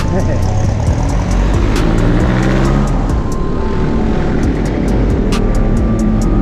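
Dense road traffic in a long jam near SM Sucat in the Philippines on a Friday, a steady loud rumble of engines and vehicles with passing motors and a faint voice in the background.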